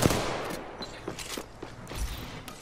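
Rapid bursts of gunfire from a battle royale shooter game, several sharp shots and short volleys spread across the moment, loud and close with no talking over them.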